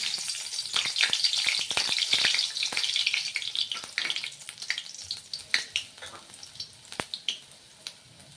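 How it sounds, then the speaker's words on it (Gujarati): Whole spices and chilli crackle and sizzle in hot oil for a Gujarati cauliflower curry tempering, a close, busy spitting that fades to scattered pops, with no talk. "સૌપ્રથમ આપણે ફુલાવરનો વઘાર કરીશું ત્યારબાદ તેની ગ્રેવી બનાવીશું"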